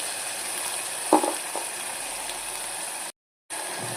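Raw onion paste frying in a pan with curry leaves and green chillies, a steady close sizzle running throughout with a brief stir knock near the middle and a short cut-out near the end.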